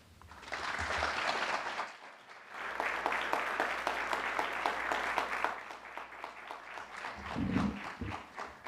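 A school board meeting audience applauds the championship varsity baseball team, with sustained, moderately distant clapping from a crowd that swells, dips briefly, then continues steadily to the end.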